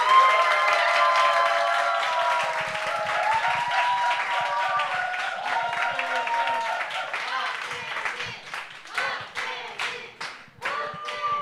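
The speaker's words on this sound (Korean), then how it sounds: "목사님 나오실 때 우라와 같은 박수로 맞이해 주시면 좋겠습니다." A church congregation claps to welcome a pastor coming forward, starting as a warm, full round of applause that thins into scattered, separate claps near the end, with voices and musical tones under it.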